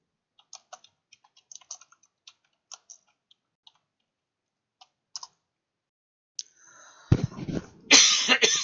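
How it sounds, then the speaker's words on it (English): Sparse keyboard clicks tap away quietly before a close, loud burst of harsh coughing breaks out at the end. "Didn't mean to cough on you guys."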